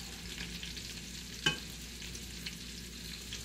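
Salmon searing in a pan with butter gives a faint, steady sizzle, broken by one sharp clink near the middle and a softer knock later, with no voices.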